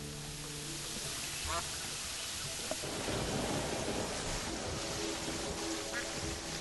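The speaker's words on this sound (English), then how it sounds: "Okay, so now it's raining." Rain falls in the Terraria video game as a continuous hiss of game-world weather, with a faint low rumble that may be thunder beneath the steady wash.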